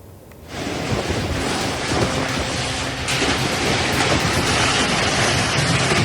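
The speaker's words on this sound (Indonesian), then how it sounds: "Inilah detik-detik video angin puting beliung menerjang permukiman warga di Dusun Kalideres, Wanayasa, Banjarnegara, Jawa Tengah" A puting beliung whirlwind tearing through a residential hamlet in Kalideres, Wanayasa, Banjarnegara, Central Java, makes a loud, continuous roar of wind noise that surges in after a brief quieter moment and stays heavy throughout.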